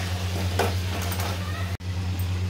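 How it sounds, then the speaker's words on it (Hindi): Chicken tossed with food colour fries for biryani, a dense continuous sizzle with a low steady hum beneath and a brief stirring scrape. "तो अब फूड कलर डाल के भी इसको हम 1 से 2 मिनट के लिए और भून लेंगे।"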